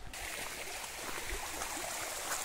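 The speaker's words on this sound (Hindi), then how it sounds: "कितना तेज़ फ्लो है पानी में देखिए, और क्या आवाज़ निकल के आ रही है।" Fast-flowing stream water in a forest rushes steadily with a dense broadband hiss and gurgle, close by and continuous, with no voices.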